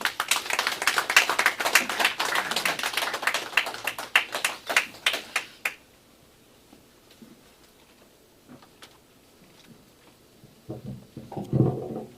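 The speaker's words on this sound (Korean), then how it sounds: "여러분 박수로 우리 고진광 대표님을 모시겠습니다." Clapping from a small audience welcoming a speaker to the podium at a 2.8 Independence Declaration anniversary ceremony, brisk and fairly close for about five seconds, then stopping abruptly into near silence with faint shuffling and a brief murmur near the end.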